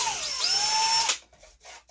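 A power drill boring through 1/16 inch plywood for a wooden outrigger kit, the motor whining steadily with a rising pitch for about a second before cutting off abruptly, followed by quiet handling noises.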